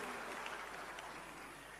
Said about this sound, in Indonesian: tepuk tangan untuk seluruh kader HIPMI dan seluruh undangan kita yang ada hari ini